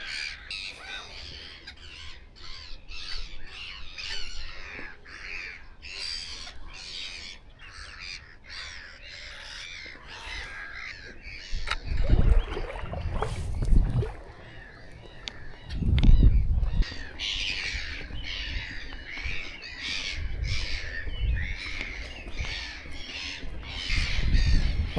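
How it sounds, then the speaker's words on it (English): Black-headed gulls call repeatedly at early morning in harsh, squawking cries, several overlapping at varying distances, with louder rumbling bursts of noise partway through. "I can't see much birds apart from black-headed seagulls."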